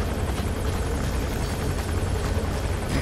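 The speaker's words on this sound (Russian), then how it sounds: "У нас замечательный вертолет там, в котором мы можем не попасться." A helicopter in the video game Metal Gear Solid V: The Phantom Pain fills the scene with a steady, loud rotor drone and whirring thump that continues unbroken throughout, with no voices over it.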